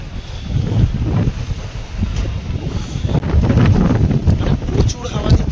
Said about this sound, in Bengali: প্রচুর হাওয়া দিচ্ছে, পুরো পেছনের সিটা পুরো উথাল পাতাল করছে হাওয়ায়।